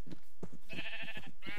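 Sheep bleat in the Minecraft Pixelmon mod, several short, close, wavering calls in a quick uneven series, fairly loud with no speech over them.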